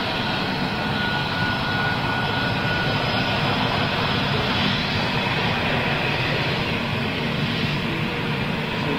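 Jet airliner with CFM56 engines, giving a loud, constant broadband roar with a low rumble that holds steady throughout, with no speech.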